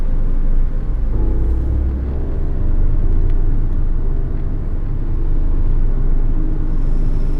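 A car drives steadily along a road, its low engine rumble and road noise continuous and fairly loud throughout, with no talking.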